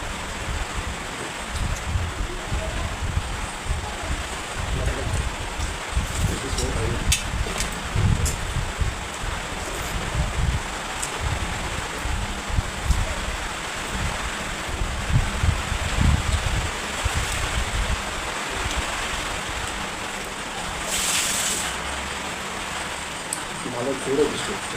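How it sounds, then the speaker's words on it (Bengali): Heavy rain pours steadily in a dense, even hiss that never lets up, with people talking over it throughout. "ভালো জোরে বৃষ্টি হচ্ছে।"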